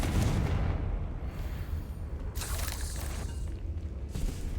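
A Confringo spell blast in Hogwarts Legacy lands as a deep rumbling boom with crackling bursts, followed by further explosive hits, loud and close with a continuous low roar underneath.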